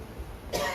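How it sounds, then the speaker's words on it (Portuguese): A single short cough from a man with a sensitive throat, sounding near and fairly loud in a church setting after a quiet stretch. "e por isso eu estou tossindo, não é por outra razão"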